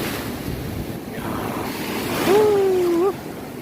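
Big ocean waves at Kuta Beach in Bali roar as a steady wash of surf mixed with gusty wind noise close to the microphone. A brief voice rises over the surge near the end.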